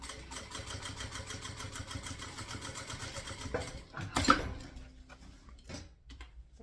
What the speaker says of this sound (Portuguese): E vou costurar aqui,